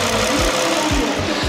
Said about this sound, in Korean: 영상으로 엔진 소음 한번 담아보도록 하겠습니다